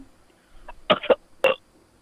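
Caller burping over a telephone line, three or four short guttural bursts in quick succession, thin and phone-filtered, with near silence around them.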